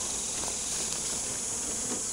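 Honey bees in an opened top bar hive make a steady, dense buzzing hum that holds at an even level throughout, close by and with no voices.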